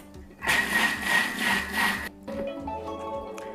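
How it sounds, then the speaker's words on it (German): Thermomix mixing with its whisk attachment at speed 4, blending a sugar mixture: a loud, steady motor whir lasting about one and a half seconds, followed by quieter clicking and machine noise as it stops. "Das Ganze wird jetzt erstmal mit dem Rühraufsatz 5 Sekunden auf Stufe 4 verrührt."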